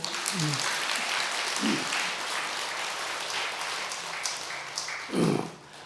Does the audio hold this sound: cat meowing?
no